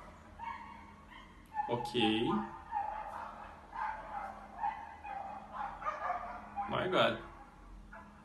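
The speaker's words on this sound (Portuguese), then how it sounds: "tem um cachorro morrendo ali na rua" A dog barks and yelps out in the street, some distance off, in sharp bursts near the start and again toward the end, while a teacher talks over it.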